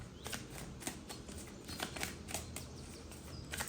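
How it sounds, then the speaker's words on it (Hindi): Tarot cards being shuffled and drawn in a quiet room: a run of soft, quick riffling and slapping card sounds repeating steadily, close and fairly faint, with no one talking. "अब साथ ही साथ हम कुछ कार्ड्स निकालते हैं"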